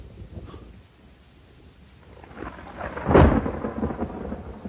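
A thunderstorm with heavy rain, steady hiss of rainfall under a rolling thunder crack that swells to a loud peak midway and then slowly rumbles away.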